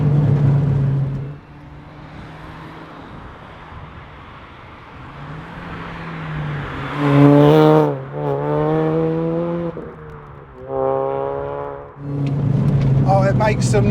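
A modified Mini Cooper R53 engine fitted with a JCW air intake roars up through the gears in strong bursts with clear rising tones, broken by short lifts off the throttle, and a steady drone runs beneath.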